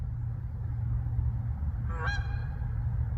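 A goose honks a single clear call in a snowy winter woods camp, standing out briefly midway against a steady low rumble of background noise.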